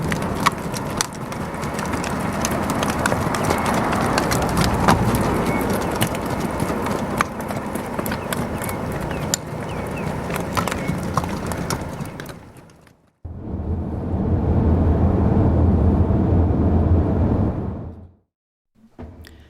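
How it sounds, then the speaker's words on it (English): Hooves of a group of Icelandic horses clip-clop steadily as they trot past on a road near Reykjavik, a continuous close rhythmic clatter with faint bird calls, broken by a brief pause before the hoofbeats resume. "We were thrilled to watch this group of Icelandic horses trot past us while driving back to Reykjavik."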